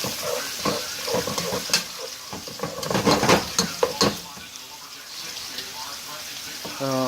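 Onions sizzle and crackle in a hot pan during keto meal prep, with stirring scrapes and clatters in the first few seconds before the frying settles into a steady, softer hiss; a voice speaks near the start.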